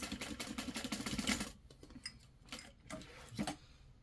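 A sewing machine stitches the card slots of a zip wallet in a quick steady run of rattling stitches that stops abruptly, followed by a few faint, scattered clicks in a quiet room.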